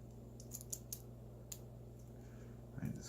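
A Remington Target Master 510 rifle safety clicks a few times, sharp, small mechanical ticks spaced irregularly over a steady low hum, ending in a brief rattling shuffle.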